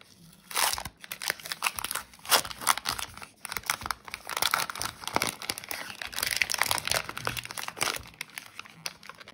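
Cadbury Dairy Milk chocolate wrapper crinkles and crackles as the packaging is torn and opened, close and fairly quiet, in irregular bursts over about nine seconds.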